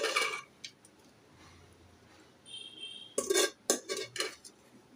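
Cooked prawns are scooped from a pot onto a plate, with metal spoon scrapes and sharp clinks against the vessels in scattered bursts, loudest in a quick cluster near the end.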